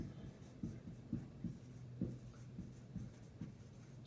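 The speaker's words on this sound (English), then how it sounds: "let me write it out better" Notes being written out by hand, faint and close, with soft rhythmic scratching strokes of pen or pencil on paper and light taps between them.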